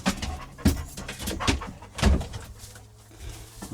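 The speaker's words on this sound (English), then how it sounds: "That was a visit from a puffy dog." A fluffy dog pants close by, with quick, breathy huffs and snuffles in an uneven rhythm. Several louder puffs stand out as it moves about near the listener, and no one speaks.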